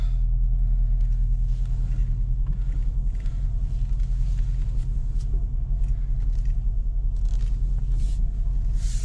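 Steady low engine rumble and road noise from inside a moving 2012 Mercedes CLS 550 4Matic, continuous and even, with no talking.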